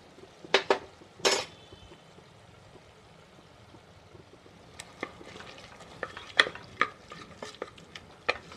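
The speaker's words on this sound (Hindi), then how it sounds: "कीमा अब गल चुका है तो यहाँ पर इसे थोड़ा सा दही के साथ भून लें।" Vegetable keema with yogurt fries in a pan, a soft sizzle running under several sharp scrapes and clinks of a metal spoon stirring against the pot, close by, without speech.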